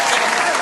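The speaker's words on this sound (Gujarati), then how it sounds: "બધા લોકો માટે આપણે જોરદાર તાળીઓ પાડી" An audience bursts into a short, dense clatter of clapping, loud and close, lasting well under a second with no pause or talking.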